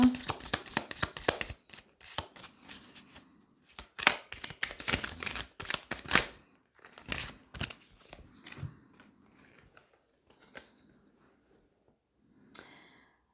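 Tarot cards are shuffled in quick bursts of crisp riffling and tapping, close to the microphone, with brief pauses between rounds and faint quiet stretches toward the end.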